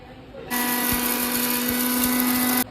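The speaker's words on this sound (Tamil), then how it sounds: "பெருஞ்சீரகம், நல்ல மிளகு, ஜீரகம் ஃபஸ்ட்டு போட்டு மிக்ஸி ஜாரில் போட்டு அடிக்கணும்" A mixer grinder whirs loudly for about two seconds grinding fennel, black pepper and cumin, a sharp high-pitched motor whine with grinding rattle, starting and stopping abruptly.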